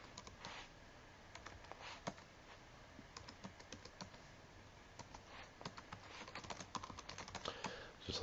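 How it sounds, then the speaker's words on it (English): Dates typed into a file on a computer keyboard, quiet bursts of rapid key clicks with short pauses between them, close by with no talk. "I can just type in a bunch of different dates in here"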